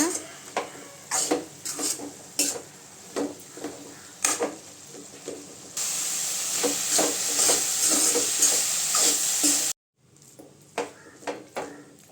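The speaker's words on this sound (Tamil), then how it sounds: "கீரையை அடிக்கடி இப்படி கிண்டி விடுங்க" Makili keerai greens frying in a pan are stirred with repeated scraping and utensil clinks. A louder steady sizzle rises midway, stops abruptly, and the stirring scrapes continue.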